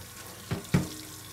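Water from a household tap runs while someone adjusts it for the right temperature, giving two brief louder gushes over a low steady flow, close by with no talking.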